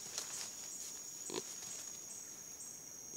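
Young pigs caught in a snare trap squeal in faint, high-pitched bursts over a steady outdoor hiss and a thin whining tone.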